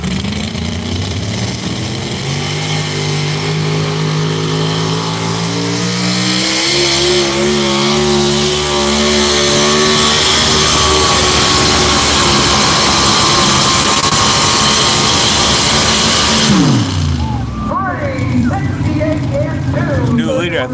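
A 2003 Ford pulling truck named Totally Hooked roars under full power at a tractor and truck pull, its engine loud and close with climbing, stepping harmonics that drop off suddenly near the end, followed by an announcer's talk.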